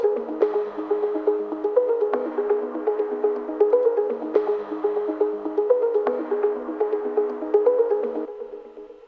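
A repeating plucked acoustic guitar pattern with delay and reverb, echoing repeats trailing each note, steady and moderately loud, fading at the end.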